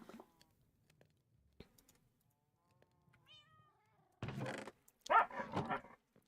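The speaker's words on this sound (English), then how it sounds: "You guys hear my little doggy?" A small pet dog vocalizes indoors, with a few faint whimpers early on, then a cluster of short, louder barks and yips near the end, close to the microphone in an otherwise quiet room.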